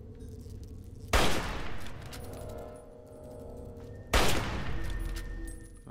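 Gunfire in Fallout 3: two separate loud bursts of shots, one near the start and one about three seconds later, each with a sharp attack and a ringing decay over low ambient game sound. No one speaks.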